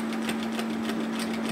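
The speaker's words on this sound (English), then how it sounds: "then sew that across at 1 centimetre" A sewing machine runs close by in a quick, even stitching rhythm as it sews across fabric, with a steady hum under the needle beats.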